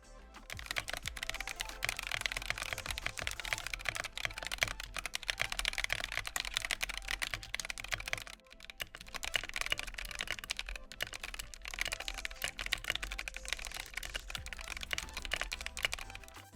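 Rapid, dense typing on an AKKO ACR 61 mechanical keyboard fitted with CS Jelly Blue tactile switches, a steady stream of close, clacky keystrokes with a short pause midway.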